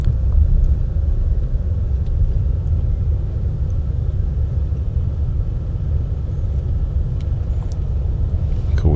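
A Disney Minnie Van minivan rolls along at Walt Disney World with a steady, loud low road rumble heard from inside the cabin, unbroken throughout.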